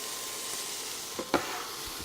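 Onion and garlic hitting a hot pan while a chicken dish cooks, giving a steady broadband sizzle with a couple of brief utensil knocks and stirring scrapes partway through.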